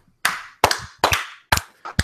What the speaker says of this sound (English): let's get ready to clap round 2